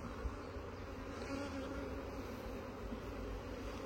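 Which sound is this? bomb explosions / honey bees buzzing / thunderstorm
honey bees buzzing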